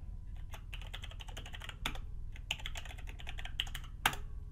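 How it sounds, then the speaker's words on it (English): Someone types an email address on a computer keyboard, a close run of quick uneven key clicks in bursts with a few heavier strokes over a low background hum. "Enter in my email. Can't type today."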